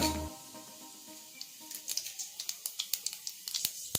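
Mustard seeds, urad dal and chana dal dropped into hot oil while making lemon chutney, first a quiet hiss, then a growing series of sharp little pops and crackles close by.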